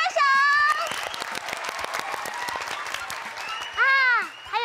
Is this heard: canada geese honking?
no